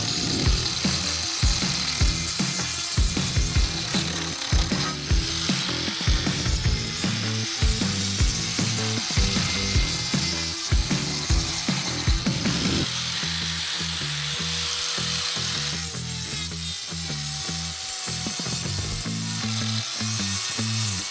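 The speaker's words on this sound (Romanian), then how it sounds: "să vedeți un pic cam cum se întâmplă decojirea, de exemplu, cu lama asta" Arbortec Turbo Plane blade stripping bark from wood while building a fence, a loud rapid rattling, chattering grind with regular pulses for the first half, then a smoother steady whirring hum.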